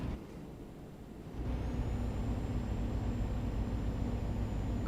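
A truck in Euro Truck Simulator 2 gives a steady hiss of air brakes over low engine rumble. The noise steps up after a quiet opening and then holds evenly, with no talk.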